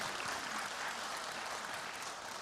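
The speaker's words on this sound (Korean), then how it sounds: "주님께 박수로 영광 드리겠습니다" Church congregation applauding during a Sunday worship service, a dense, even wash of many hands clapping at a distance, without voices.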